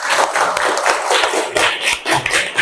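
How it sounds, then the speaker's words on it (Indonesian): Children clap their hands together in a classroom, a quick run of uneven, close claps lasting a couple of seconds with no talking. "Betul, tepuk tangan"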